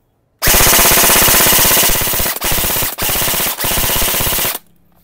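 An E&C Noveske airsoft rifle fires full auto in rapid, evenly spaced bursts, a loud close mechanical rattle broken by three brief pauses before stopping sharply.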